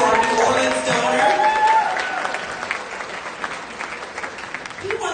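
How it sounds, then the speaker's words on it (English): A crowd at an animal shelter fundraiser gala applauds warmly, dense clapping with a voice at first, then tapering toward the end. "Everyone give a big round of applause to our New Orleans donor."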